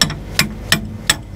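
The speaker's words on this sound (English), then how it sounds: "I'm only just tapping the hammer gently." A hammer taps gently on lock pins while testing them for movement, four light metallic strikes spaced evenly apart, close and clear with no talk.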